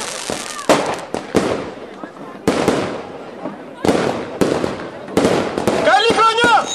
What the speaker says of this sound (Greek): Μόλις τελειώσουν τα πυροτεχνήματα θα αρχίσω να μιλάω.